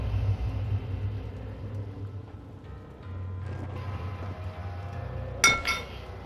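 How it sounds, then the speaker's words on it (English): Glass breaks in the horror video game Amnesia: a brief, bright clink and shatter near the end, over a low steady rumbling game ambience with no talk. "Oh, it's broken glass."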